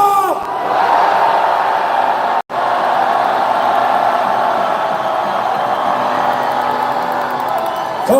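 A large crowd at an anti-impeachment political rally in Gwangju roars and cheers loudly and continuously. The roar breaks off for an instant, then carries on at full strength.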